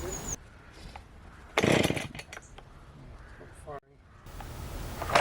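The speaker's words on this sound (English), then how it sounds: "I did struggle as the chainsaw kept on stalling because I wasn't revving it enough." A chainsaw cutting wood revs in short, uneven bursts, sputtering and stalling between them from too little throttle, close by in an otherwise quiet outdoor setting.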